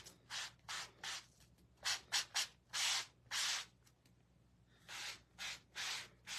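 Board eraser scrubbed in quick back-and-forth strokes across a screen-printing screen to clear ink, a soft close rasping in short bursts with brief pauses, fairly quiet and without talk.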